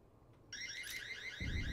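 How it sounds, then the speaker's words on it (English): Electronic proximity alarm in the VR shooter Breachers, a warbling, pulsing synthetic tone that starts abruptly and repeats steadily for over a second, with a low rumble rising underneath toward the end. "Proximity alarm, though."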